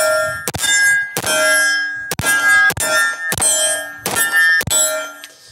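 A 1911 pistol fired with standard FMJ ammunition: about eight sharp, loud reports in quick succession, each followed by a metallic ringing tail.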